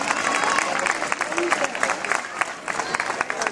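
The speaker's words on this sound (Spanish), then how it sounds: "ese aplauso para este podium" An audience claps for the podium finishers at a 10K race awards ceremony, a steady dense patter of applause filling the whole stretch with a crowd murmuring around it.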